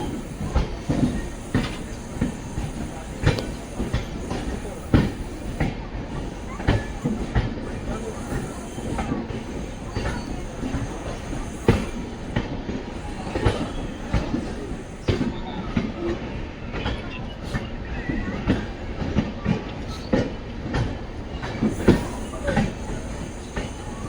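Bengaluru to Mangaluru weekly express train near Sakleshpura, heard from on board with a steady rumble and rhythmic wheel clatter throughout, with faint voices mixed in.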